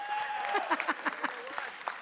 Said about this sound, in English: They've already clapped for you, which means congratulations.